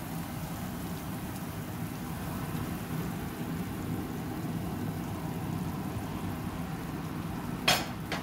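Eggs being mixed in a bowl for a tuna omelette, a steady soft stirring and scraping patter running throughout with no talk, ending with a brief sharper clink near the close.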